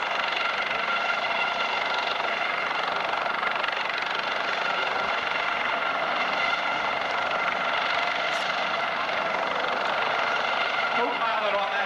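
Coast Guard helicopter at an air show, a steady droning rotor and engine noise that holds throughout, with a voice announcing over it.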